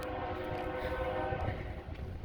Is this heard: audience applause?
no